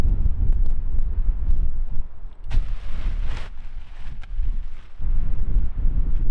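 Wind gusts buffet a tent at a Namibian campsite, a loud, rough rumble that swells and eases in waves, with no voices.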